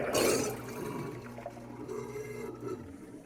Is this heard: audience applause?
no